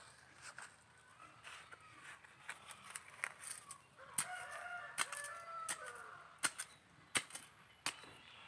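Chickens clucking and a rooster crowing in the background, with scattered sharp clicks and rustling, some faint talk mixed in.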